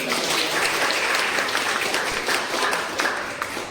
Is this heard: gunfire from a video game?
no